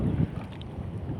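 Strong wind buffets the microphone with a low, constant roar while waves wash around a small fishing boat at sea during traditional handline fishing in the Philippines, with no voices.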